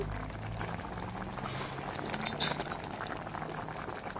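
Lentils and malabar spinach simmer in a pot on a home stove, a soft steady bubbling and gentle gurgling close by, with someone talking quietly over it.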